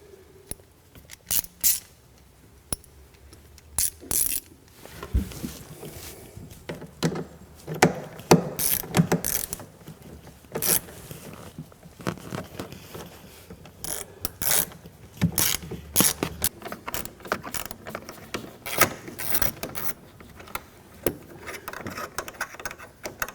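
Ratchet socket wrench removing the two seat retaining bolts at the bottom of a car seat, close rapid clicking bursts of varying length with clunks and handling noise in between, no voices.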